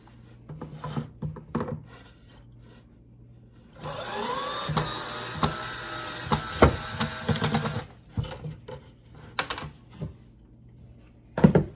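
A powered driver whirs in a sustained burst while loosening screws on a cupboard faceplate, surrounded by scattered clicks and taps of the screws and hardware.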